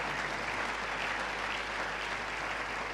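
A church congregation claps in praise of the Lord, sustained, even applause from many people filling the room without pause and no speech on top.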